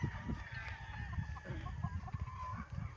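Chickens cluck and squawk close by, a busy flock of overlapping calls with no one speaking.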